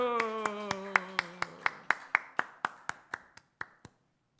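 A church congregation at a Wednesday service claps in a steady unison rhythm, about sixteen crisp beats. A sustained sung or spoken tone fades beneath the first half.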